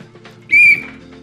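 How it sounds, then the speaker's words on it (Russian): A referee's whistle ends a hockey match, one short, sharp, loud blast rising over low crowd and arena murmur. "Финальный свисток."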